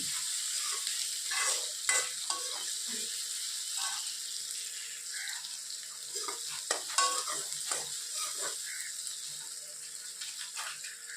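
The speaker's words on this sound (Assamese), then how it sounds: "এইখিনি মই এতিয়া অলপ সময় ইয়াৰ কালাৰটো চেঞ্জ নোহোৱালৈকে অলপ সময় ভাজি ল'ম।" Chopped onions frying in a pan until they change colour, a soft steady sizzle broken by repeated scraping and clinking of a spoon stirring against the pan.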